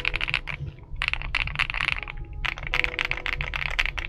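A Kzzi K75 Lite mechanical keyboard with Rain linear switches is typed on in close, rapid bursts of crisp clacks, with a short pause before each of two bursts.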